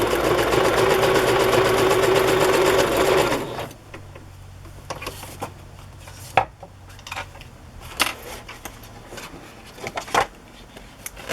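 A sewing machine stitches a wide zigzag through paper for a Christmas journal, a loud steady mechanical whir for about three seconds before it stops, leaving faint taps and rustles of handling.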